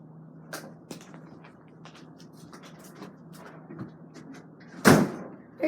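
An open door makes one sharp, loud bang or slam near the end, after a stretch of quiet room noise with a few faint clicks and knocks.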